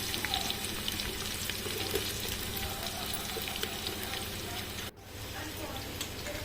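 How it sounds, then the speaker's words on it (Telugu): Onions and green chillies frying in a pan for chicken biryani, a steady close sizzle running throughout with occasional light stirring clicks and a brief dip near the end. "ఇప్పుడు పచ్చిమిరపకాయలు, ఉల్లిపాయలు వేసుకొని కొంచెం లైట్గా బ్రౌన్ కలర్లో వచ్చే వరకు కూడా వేయించుకోవాలి."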